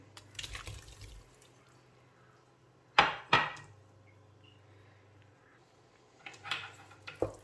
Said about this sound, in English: And we're also just going to add the tofu